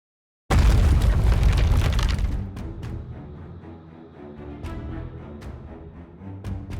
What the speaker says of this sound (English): I hear gunfire and explosions.